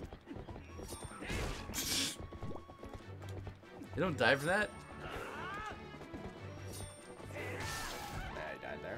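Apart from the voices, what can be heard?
horse neighing and hooves, Zelda Twilight Princess HD video game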